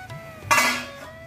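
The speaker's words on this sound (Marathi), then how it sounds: "5 मिनिटं झालेली आहेत, झाकण उघडून पाहूया।" A metal lid lifted off a pan of sabudana khichdi makes a single sharp clatter and scrape, a brief close clink that rings out and fades within a second against a quiet kitchen.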